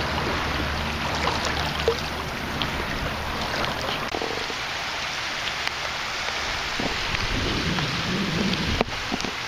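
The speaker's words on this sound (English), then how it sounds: "Some meager raindrops starting to fall on us now." Light rain patters steadily on a boat out on a bay, a continuous soft hiss with occasional faint drops and knocks, with no talk.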